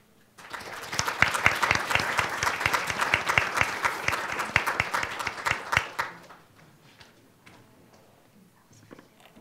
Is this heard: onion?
no